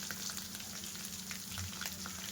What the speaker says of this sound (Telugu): చూసారా, ఇలా ఫ్రై చేసుకోవాలండి.